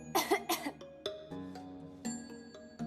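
A man coughs to announce himself as he enters a home, giving two or three close throat-clearing coughs, followed by soft clinks and faint household sounds.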